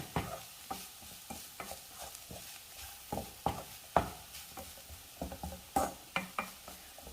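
A carrot and long bean thoran stir-fry is tossed in a pan, with repeated close scraping stirs and light clinks over a faint, low sizzle.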